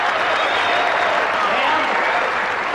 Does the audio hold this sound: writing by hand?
no